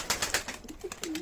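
Pigeons coo close by in brief, soft, low calls, with faint flutters and rustles mixed in over a short moment.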